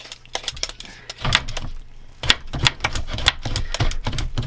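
Knife cutting and peeling the tough end of an artichoke, heard as a series of sharp, close clicks and scraping snaps in an irregular rhythm, with no talking.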